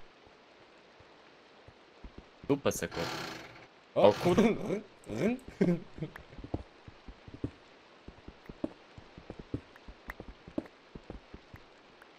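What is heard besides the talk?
rain pouring in a video game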